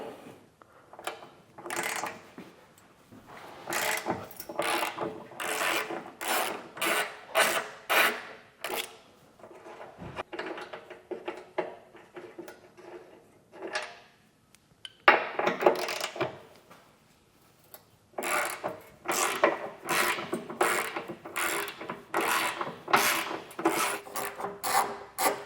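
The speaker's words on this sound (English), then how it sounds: "They are 13/16, and we'll remove all 6 on the back of the vehicle." A hand ratchet works loose 13/16 bolts on the rear of a 2024 Jeep Grand Cherokee, close and loud, with runs of rapid rasping clicks broken by short pauses.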